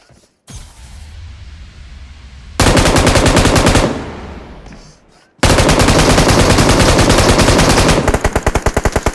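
Rapid automatic gunfire in the mobile battle royale game PUBG Mobile, loud sustained bursts of fast shots that cut off, resume and end in a few spaced single shots, with no talk over them.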